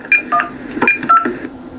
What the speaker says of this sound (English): I was making a phone call.